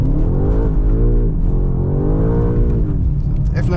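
A 2025 BMW M5 pulls hard under acceleration with wheel spin into second gear on 295-section rear tyres, its engine note rising in pitch, dipping briefly at the shift, then climbing again, close and loud from inside the cabin.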